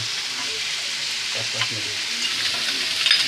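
Shrimp paste (bagoong alamang) sizzles in hot frying oil for Bicol express, a steady close hiss with faint stirring crackles and a brief murmur of voice.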